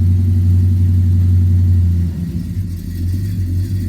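A Chevy pickup's engine runs loud and close after a cold start, a steady low idle that drops and roughens about halfway through.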